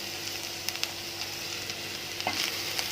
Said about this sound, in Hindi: अब इन सारे मसाले को अच्छे तरीके से मिक्स कर लेंगे।